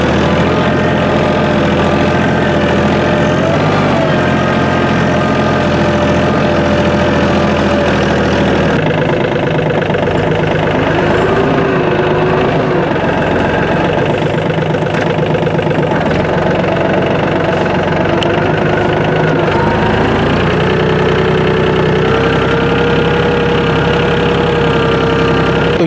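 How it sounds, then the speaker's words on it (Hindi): A Mahindra OJA 2127 tractor engine runs loud and close while reversing, a continuous diesel throb with knocking texture and slight shifts in pitch as it works, with no voices. "अब मुझे ट्रैक्टर को रिवर्स भी करना है, तो आप देखो वहाँ पे मैं रिवर्स करूँगा"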